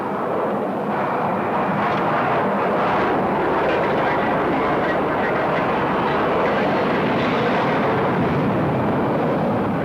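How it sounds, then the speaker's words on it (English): Loud, continuous roar of a Boeing 727's jet engines at full power during takeoff, close and unbroken. "You'll hear Don say rotate when the pilot should begin to lift the nose"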